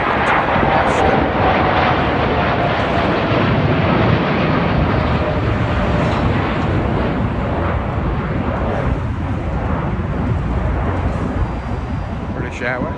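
A British Airways Boeing 777-200 jet airliner at Heathrow gives a loud, continuous broadband engine roar that holds steady for the whole stretch and eases slightly near the end.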